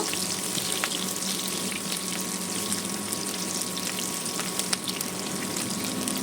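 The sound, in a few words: onions and green chilies frying in oil in a pan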